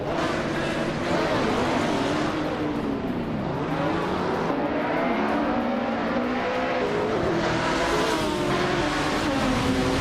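Race car engines roaring together at the start of a video game race at Marina Bay, with a 1999 LMP 900 prototype among the pack; continuous loud, dense engine noise with rising and falling pitch sweeps throughout.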